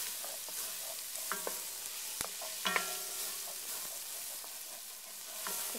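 Chopped carrots and onion fry in a pan with a soft, steady sizzle, while a spoon stirs them, giving scattered scraping clicks and taps that stand out over the quiet hiss.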